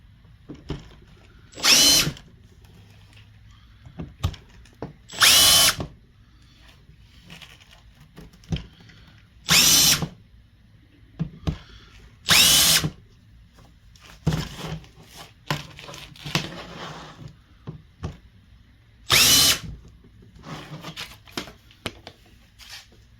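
Power drill countersinking screw holes, five short loud whirring bursts spaced several seconds apart, close by, with quiet handling clatter in between.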